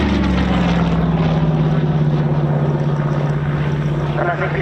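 A loud, steady propeller engine drone with a slowly falling pitch as a two-seat aircraft passes close by at an air show.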